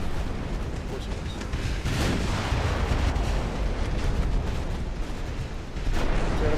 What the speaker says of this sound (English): And he lands both torpedoes.